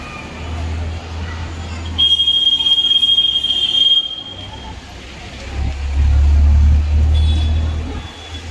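Low, heavy rumble of the Dhauli Express train at a railway platform in Puri, with a thin metallic squeal rising for a couple of seconds before the rumble swells again.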